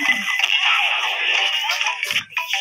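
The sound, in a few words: cellphone ringing in a zombie video game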